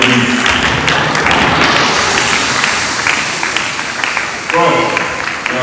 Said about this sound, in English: A round of applause for you, please.